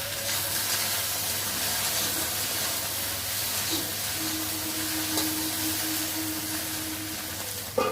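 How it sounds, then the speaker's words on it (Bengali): Okra fries in a covered pan, giving off a steady, soft sizzle and hiss with a faint continuous hum beneath and a brief clatter at the very end. "ততক্ষণ ওইদিকে ভেন্ডিটা ভাজা হচ্ছে"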